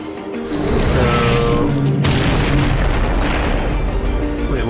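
An explosive shot in the action game Darksiders II hits with a sudden loud boom, a second sharp crack follows, and a dense roaring rumble sustains behind them, close and forceful with no speech.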